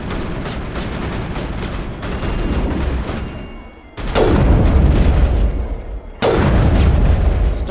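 Loud gunfire and booming blasts in Mass Effect 1, a continuous heavy barrage broken by two sharp, forceful impacts that restart the roar of battle.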